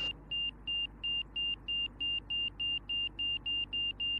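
Angle-of-attack indicator in a light aircraft cockpit on approach beeps in a fast, steady repeating pulse, about three tones per second, over a constant low engine and cabin drone.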